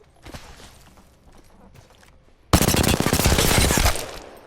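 Apex Legends gunfire: quiet game sounds, then a loud sustained burst of rapid automatic fire lasting about two seconds.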